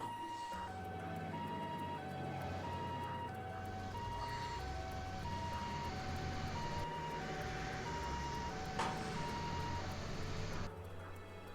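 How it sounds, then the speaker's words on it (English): Ambulance siren in the Trails to Azure video game, a steady two-tone wail repeating for about eleven seconds over low rumbling background, loud and continuous before cutting off near the end. "病院に向かう救急車か。"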